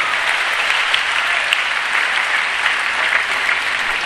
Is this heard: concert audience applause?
yes